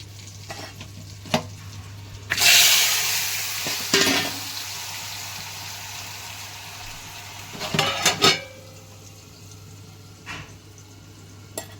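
Asafoetida and spices dropped into hot oil set off a loud burst of sizzling that fades, with a second flare of frying and a few soft pan clinks against a steady low hum.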